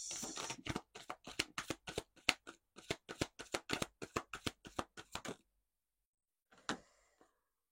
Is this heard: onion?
no